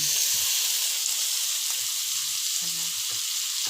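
Ham slices sizzling steadily in a hot pan, a constant bright frying hiss close up with faint clinks of a utensil stirring.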